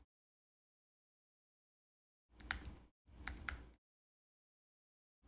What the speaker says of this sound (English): I'm going to type in, with a bracket mark, Monogram experiments